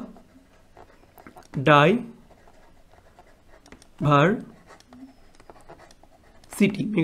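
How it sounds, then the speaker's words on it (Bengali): A pen writing an answer on paper, soft scratchy strokes running through the quiet gaps between three bursts of a person talking, close and faint. "তো এখানে লিখে দিচ্ছি"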